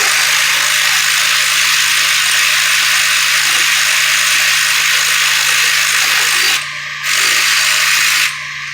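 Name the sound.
ratchet loosening a bolt on a 1998 Jeep Cherokee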